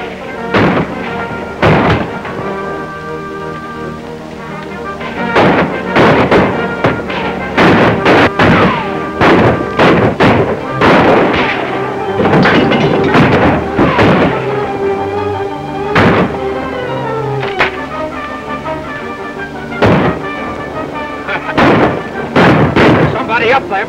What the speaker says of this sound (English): go find out who's doing that shooting and stop him